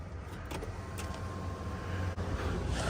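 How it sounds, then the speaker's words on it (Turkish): An Audi RS7's glass sunroof motors open with a steady electric whir and a faint thin tone, close by inside the car. "Şöyle bir sunroof'unu açalım. Cam tavanını."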